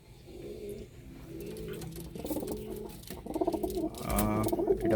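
Nazra pigeons kept in a coop coo repeatedly in low, throaty rolling calls, close by and growing busier toward the end, with faint rustling underneath.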